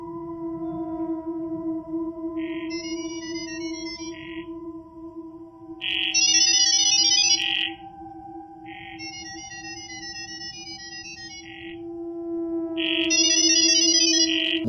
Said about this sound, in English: What you just heard is called Gibberlink mode